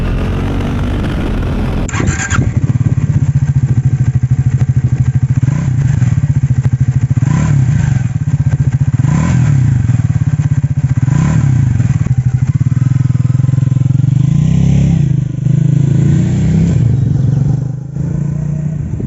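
A Triumph Speed 400 motorcycle rides along with a loud, steady engine drone, a deep pulsing thump and wind rush, the tone rising and falling slightly as speed changes.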